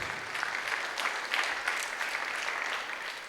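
Audience applause from a crowd at a motivational talk, steady clapping that lasts the whole moment, moderately loud and without talk.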